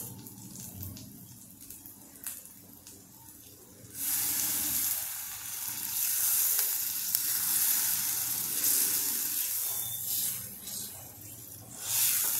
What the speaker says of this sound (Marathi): आता यात आपण थोडंसं पाणी टाकूया.